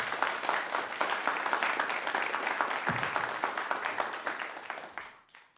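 Dense, steady applause from a conference audience at a game developers' event, many hands clapping together at full strength before fading out near the end.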